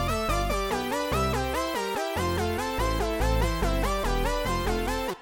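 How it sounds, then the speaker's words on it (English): An 80s-style synth bass thumping in a steady pulsing rhythm under a bright, rippling synth arpeggio, with full, loud layers throughout. "And then the synth bass comes in."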